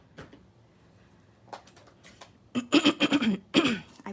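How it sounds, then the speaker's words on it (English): A woman clears her throat during a live stamping craft class, a few faint scrapes first, then a loud, close run of rough, rhythmic throat-clearing bursts lasting about a second and a half. "Clear my throat."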